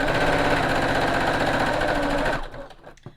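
A sewing machine stitches quilt strips in a fast, steady mechanical whir close by for over two seconds, then stops abruptly, leaving a few faint clicks and handling sounds.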